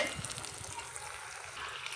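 Food frying in a pan for a festival offering meal, a steady bright sizzle with faint scraping underneath, close and even throughout with no voices.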